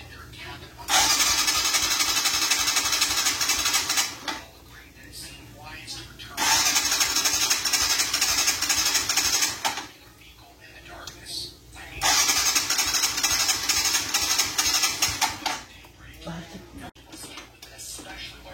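A 2020 Kawasaki Rouser NS 125fi motorcycle fitted with a new spark plug is cranked over and over. Three long, loud electric-starter whirring bursts are separated by short pauses, and the engine does not catch.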